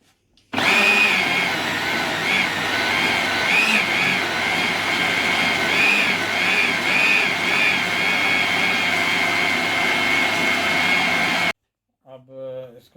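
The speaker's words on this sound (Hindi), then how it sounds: "अब इसको आपने इसको ग्राइंडर के ऊपर रखें और इसको ग्राइंड करें।" An electric kitchen grinder whirs at full speed grinding aloe vera gel, a loud, steady high-pitched roar lasting about eleven seconds before cutting off abruptly, followed by a brief voice.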